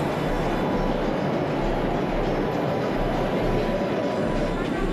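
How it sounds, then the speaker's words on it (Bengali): A metro train rumbles steadily into a station with a broad, continuous roar, as if close by on the tracks, with no clear pauses. "কিছুক্ষণের মধ্যেই আমাদের ট্রেনটিও এসে গেল"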